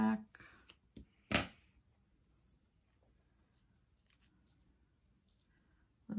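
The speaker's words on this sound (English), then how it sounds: "now let's cut some thread" Scissors snip through black craft thread at a crafting table, one sharp cut standing out after a few softer handling noises, close and fairly loud, then quiet.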